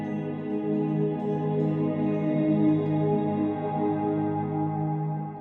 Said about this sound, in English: only keep the reverberated signal of a very long reverb